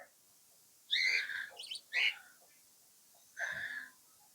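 Small cage birds on a balcony garden give several bright, high chirps and short trills in separate bursts, close by, against a quiet background.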